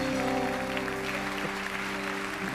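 A church congregation at an evening Baptist worship service claps together, a soft, even wash of applause under held organ or keyboard tones that carry steadily throughout.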